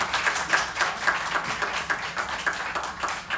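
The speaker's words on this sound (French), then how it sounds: "Vous pouvez l'applaudir." An audience at a live stage show claps in a steady rhythm, the close, even beats repeating quickly and evenly from start to finish.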